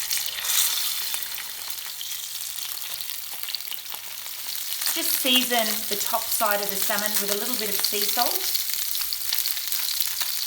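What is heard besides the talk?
salmon frying skin side down in hot olive oil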